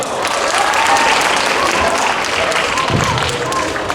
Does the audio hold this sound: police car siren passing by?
no